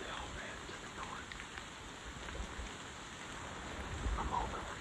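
Rain falling steadily during a deer hunt near a field, a soft, even patter of drops on surfaces, faint and continuous with a few slightly louder drips toward the end.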